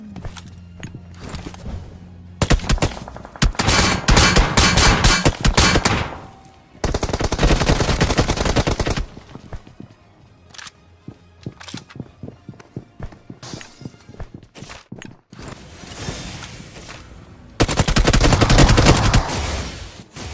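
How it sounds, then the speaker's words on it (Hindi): Video game firefight with bursts of rapid automatic gunfire and heavy shotgun blasts, loud and close, broken by quieter gaps with scattered clicks and shots. "शॉटगन की आवाज सुनते मेरा दिल फेफड़ों में आ गया।"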